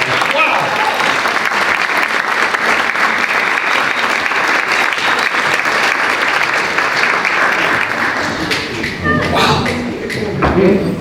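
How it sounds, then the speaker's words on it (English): Loud, sustained audience applause at a 25th anniversary memorial reception, a dense wash of clapping filling the room for nearly the whole stretch before tapering near the end, with voices beneath. "Let's give her another round of applause."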